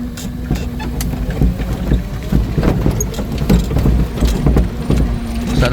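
A fishing boat's engine drones steadily with a low hum at sea, overlaid by clattering mechanical knocks and splashy noise, loud and close throughout.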